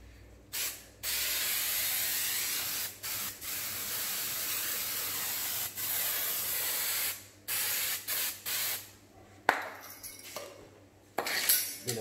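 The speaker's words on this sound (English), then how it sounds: "Trim Tech spray." Repeated hissing bursts of a Trim Tech aerosol spray can on a drywall corner angle, several long sprays with short gaps between, close and fairly steady, ending with a few faint clinks.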